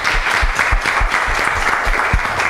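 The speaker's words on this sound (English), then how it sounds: "so look, come on, last round of applause" Applause from a conference audience at an open-data unconference, continuous and fairly loud clapping throughout with no pauses.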